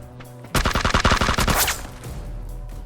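Rapid burst of PUBG video game gunfire, a dozen or so sharp close shots fired in quick succession, then a fading echo and low background rumble with no talking.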